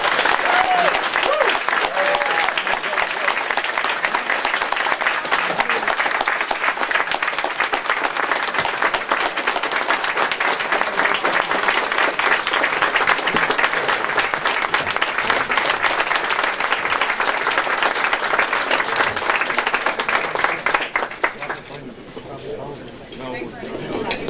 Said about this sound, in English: I hope you'll all join me in a round of applause for our fine leaders.